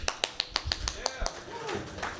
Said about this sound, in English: Let's give a round of applause for SUI Community.